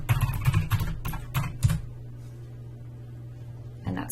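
Quick clatter of keystrokes on a computer keyboard as a search phrase is typed into a library database, a burst of taps over about two seconds, then a pause and one final keystroke, with no one speaking.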